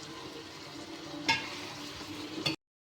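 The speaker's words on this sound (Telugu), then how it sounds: "ఇప్పుడు మనం రైస్ని ఇలా కలుపుకున్నామా, ఇలా మెల్లగా కలుపుకున్నాక అవన్నీ మిక్స్ అవుతాయి" A spoon stirs rice coated with oil in a pot for chicken biryani, giving a faint, steady scraping and rustling with two brief clinks near the end. A quiet sizzle sits underneath.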